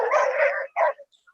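A dog at a dog park gives a loud, close, drawn-out bark, then a shorter second bark and a couple of faint yips trailing off, heard alone.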